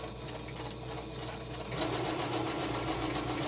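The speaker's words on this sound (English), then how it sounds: "I'm going to use the zigzag, and that's what I'm going to do right now, is do this, just sew around" A sewing machine runs a zigzag stitch around the edges of a journal page, its rapid rhythmic mechanical whir steady and close, picking up slightly partway through.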